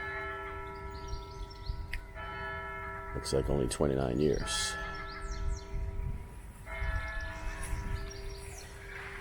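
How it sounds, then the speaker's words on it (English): A church bell ringing at South Leith Parish Churchyard in Leith, Edinburgh, Scotland, heard at moderate distance as steady, sustained tolling that carries across the whole stretch, with a person talking briefly over it. "They really ring that bell."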